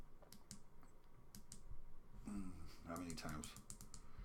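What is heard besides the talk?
button clicks calibrating SPWM V3 voltmeter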